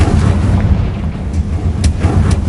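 A Confringo blasting spell explodes in the video game Hogwarts Legacy, heavy rumbling booms with deep low thuds rolling one after another over a couple of seconds, loud and close.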